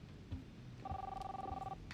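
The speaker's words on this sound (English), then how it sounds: "Phone call" A phone rings in the game Life Is Strange, one steady electronic ring tone lasting about a second over a low murmuring background, fairly faint, with no speech.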